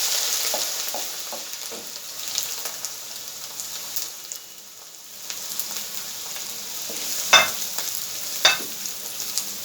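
Chopped onions sautéing in oil, a soft continuous sizzle with intermittent spoon scrapes and clinks, fairly quiet and close, no voices.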